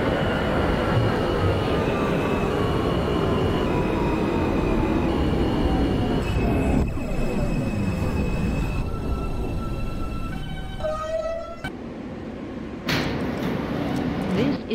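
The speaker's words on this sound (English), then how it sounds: "is a Manhattan-bound R local train" A simulated R160A subway train on the R local line in OpenBVE rumbles loudly along the tracks, pitch sliding down as it slows, with wheel squeals, a hiss of brakes and doors near the end.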